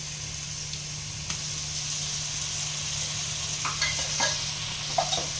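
Ginger, garlic and green chili paste fries in a hot pan, a steady close sizzle with a spatula scraping and stirring in occasional clicks and scrapes, no talk heard.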